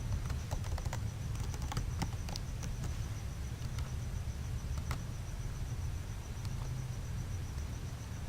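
Rapid clicking of computer keyboard keys during a CSS coding session, steady light taps over a constant low hum, fairly quiet and close, with no voices.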